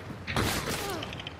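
Crossbow bolt fired in Hunt: Showdown, a short mechanical snap and thump followed by a brief rattling tail, close and moderately loud, lasting barely over a second.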